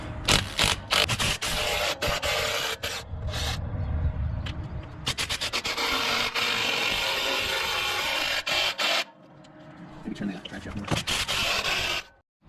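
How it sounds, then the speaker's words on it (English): Ratcheting and grinding mechanical noise from a 15mm socket breaking loose drive shaft bolts on a 2015 Jeep JK at the transfer case yoke, loud and continuous with bursts and brief pauses. "we're gonna put our 15 mil socket on here and break these bolts."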